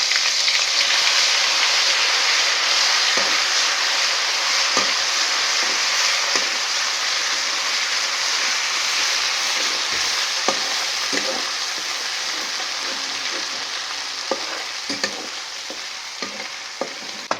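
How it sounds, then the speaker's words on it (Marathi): Mustard seeds, cumin, chili, coriander and garlic paste fry in hot oil for a rajma curry, giving a steady close sizzle with scattered sharp crackles and pops and occasional stirring, with no talking. "मोहरी जिरे तडतडले ते मिरची कोथमीर आणि लसूण वाटलेला टाकली"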